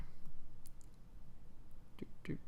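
A computer mouse clicks a few times, faint and close, with small sharp ticks scattered over quiet room noise.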